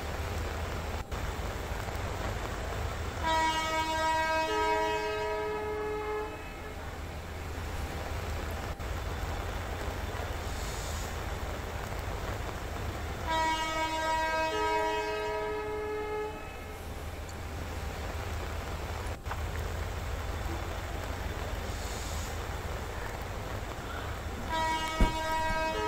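At Dadar station in Mumbai during a heavy monsoon downpour, a train horn sounds twice in long blasts over the steady roar of rain, with a low rumble of slow-moving trains underneath.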